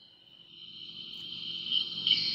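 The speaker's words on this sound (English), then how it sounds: "Cricket, cricket, cricket. See the crickets?" Crickets trill in a continuous high-pitched buzz that swells louder toward the end, over a faint low rumble in the night background.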